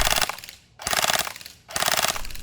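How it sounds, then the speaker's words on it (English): Umarex H&K G36C Elite airsoft rifle firing three loud, rapid full-auto bursts at an outdoor range with short silent gaps between them, no talking. "The gun shoots really solid from 70 feet"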